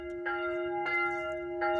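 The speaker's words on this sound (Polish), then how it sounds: "I dla mnie dzwony." Church bells ringing in the village of Lutry, Poland, three clear, resonant strikes about 0.6 seconds apart with a long sustained hum ringing between them, moderately loud and alone.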